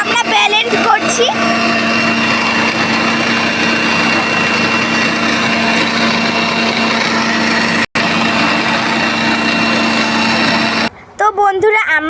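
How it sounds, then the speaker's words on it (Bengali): A blender whirs continuously and loudly through raw mango pieces with mint, salt and sugar, then stops abruptly near the end, with a brief break partway through; a voice speaks briefly at the start and again after it stops. "এখন আমরা এগুলিকে ব্লেন্ড করব"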